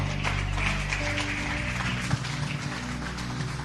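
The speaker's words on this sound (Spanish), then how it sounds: "Dele fuerte ese aplauso al Señor." A church congregation claps for the Lord, a loud close burst of applause with a few sharper individual claps standing out over the dense sound.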